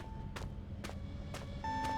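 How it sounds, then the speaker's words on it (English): Electronic beeping in the video game Penumbra: Overture, a steady tone with four evenly spaced bursts of noise, and a brighter, louder tone joining near the end over a constant low hum. "While it's still beeping?"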